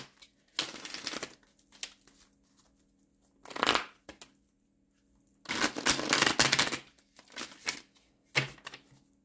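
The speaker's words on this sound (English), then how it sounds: "One more shuffle." Tarot cards being shuffled by hand in several bursts of crisp riffling and flapping, close and fairly loud, separated by short pauses, with a steady low hum underneath and no speech.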